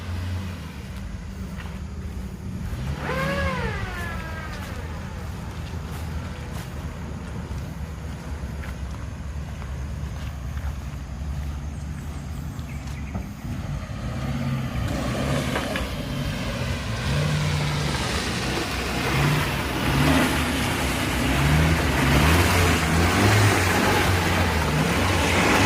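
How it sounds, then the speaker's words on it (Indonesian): A Suzuki Carry pickup truck hauling harvested fruit drives along a slippery farm track, its engine droning steadily with wind buffeting the microphone, growing louder and rougher in the second half. "kita gunakan mobil FPV carry untuk menyelesaikan pengangkutan buah sisanya"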